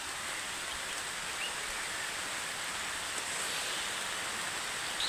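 Heavy monsoon rain falling steadily outside, a constant broadband rushing hiss at even loudness throughout, with no speech.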